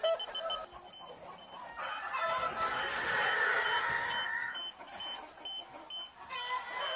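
Hens in a poultry house cluck and murmur as a robot moves among them to discourage floor laying, a dense, continuous flock chatter with occasional sharper calls and mechanical tones in the background.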